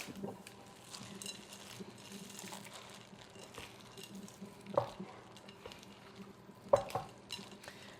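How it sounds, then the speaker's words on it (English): Semi-sweet Ghirardelli chocolate chips are folded into thick blondie batter: soft, quiet scraping and stirring, with a couple of sharper clinks of utensil against the bowl. "I'm going to add semi-sweet chips."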